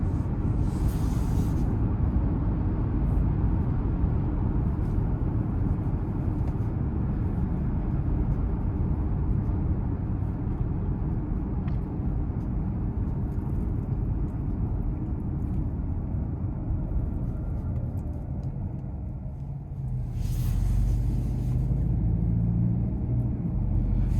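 A 2026 Ford Escape hybrid with the 1.5-litre three-cylinder engine drives along, making a steady low road and engine rumble heard from inside the cabin, continuous for the whole stretch and briefly dipping near the end.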